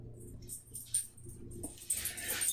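A dog whimpers and whines in short, soft bursts, close by and fairly quiet, with faint yips in a workshop setting.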